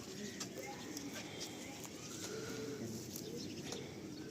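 A pigeon gives soft, faint coos at a pigeon seller's place, low against steady background hiss, with a few brief chirps mixed in.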